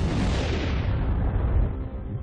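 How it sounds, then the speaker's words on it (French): A supernova explosion rendered as a deep, roaring blast that rumbles loudly and continuously, then slowly thins and fades toward the end. "Cette explosion est une supernova, une immense déflagration qui illumine un bref instant toute la galaxie"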